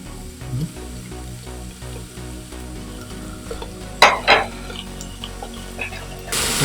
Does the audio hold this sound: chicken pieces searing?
yes